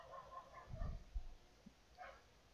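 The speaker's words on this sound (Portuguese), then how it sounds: "esse raio desse cachorro late" A dog barks nearby indoors, a couple of short muffled woofs with a smaller yip after, quiet against low room noise.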